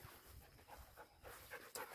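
A dog pants softly nearby in short quick breaths, quiet and close, with no talking.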